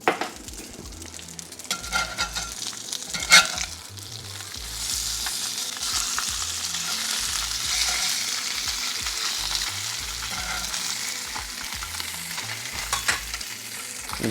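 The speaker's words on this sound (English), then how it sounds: "we're just going to take the fillets, pan fry them" Goatfish fillets pan frying, a close, steady sizzle with occasional clinks and scrapes of the pan, no talk.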